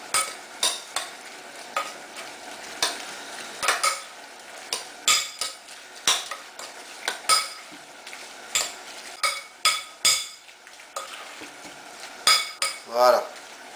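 A spoon mixes crab and mayonnaise in a bowl, close and irregular scraping and clinking strokes against the side, repeated in bursts with a quiet voice briefly at times.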